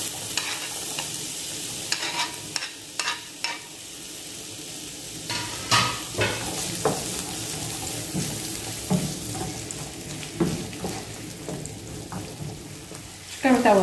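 Chopped onions fry in oil in a pan for a stuffed bread filling, giving a soft background sizzle broken by repeated clattering scrapes and knocks of stirring, with a louder clunk at the end.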